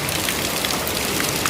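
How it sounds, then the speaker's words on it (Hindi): Heavy monsoon rain pours steadily in coastal Udupi, Karnataka, making a dense, even hiss of drops on surfaces with no pauses or voices. "बहुत ही बारिश हो रही है, बहुत ज़ोरों की बारिश हो रही है"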